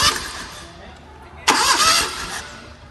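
A light vehicle's starter motor cranks the engine during a compression test with a spark plug removed: a sudden loud churning burst starts midway and runs steadily for about a second before easing off.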